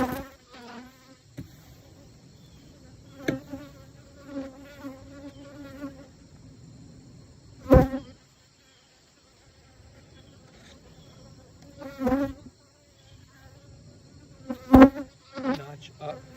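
Bees buzz around a hobby-farm beehive in a steady, faint drone close by, with swells as individual bees fly past, while a person talks intermittently.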